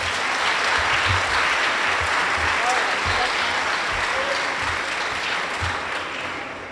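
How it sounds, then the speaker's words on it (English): A crowd at a park master plan kickoff meeting applauds steadily, dense clapping that fills the room and slowly tapers off at the end. "I'll take the round of applause nonetheless"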